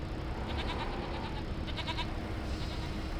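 Sheep bleat faintly a few times in Farming Simulator 25 as a vehicle drives through the flock, the calls sitting over a loud, steady low engine rumble.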